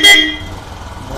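One short, loud honk from a modified Royal Enfield Bullet 350 motorcycle horn with a buzzy tone, followed by a low engine rumble.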